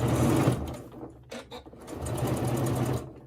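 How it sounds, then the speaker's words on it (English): Sewing machine stitching leather for a crossbody bag, a close steady mechanical whir and rapid clatter that dips briefly midway and then resumes, with no talk. "And actually sewing on leather can be quite easy if you have the right tools."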